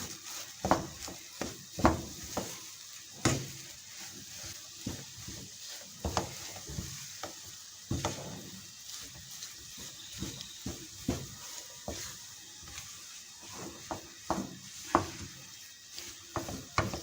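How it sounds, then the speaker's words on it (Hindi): Mashed potato filling for aloo paratha being mixed with chaat masala, salt and chicken powder in a bowl, repeated soft stirring and scraping strokes in an irregular rhythm, close and fairly quiet, with no talk. "ये सब जाएगा इसी में। अब हम अच्छी तरह से मिक्स करेंगे।"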